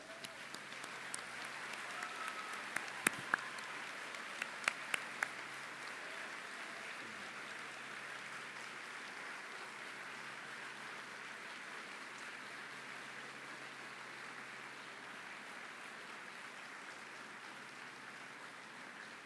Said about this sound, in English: So a big applause to them.